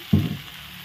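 Fried potatoes and prawns drop into a hot pan of jackfruit curry base, giving a short, loud hiss that quickly fades into a low, steady sizzle.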